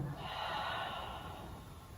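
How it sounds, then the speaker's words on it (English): A slow, soft exhale during a yoga pose, one steady breath of airy noise lasting about two seconds in a quiet room. "Breathing out."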